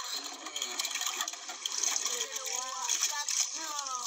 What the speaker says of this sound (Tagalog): Yan, lagyan ng tubig.